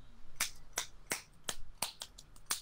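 Hands clapping close by, about eight sharp, crisp claps in an uneven rhythm, faint in level, with no talking.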